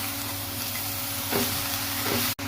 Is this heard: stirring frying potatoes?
yes